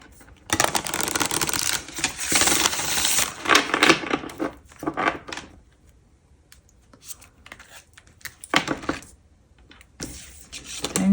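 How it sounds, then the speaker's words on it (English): Tarot cards shuffled in bursts of papery riffling and slapping, with a few cards spilling out, loud flurries separated by quiet pauses and no talk. "Hang on, cards are falling out."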